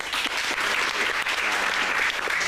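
A studio audience at a robotics tech show applauds steadily, dense clapping close and loud throughout with no gaps.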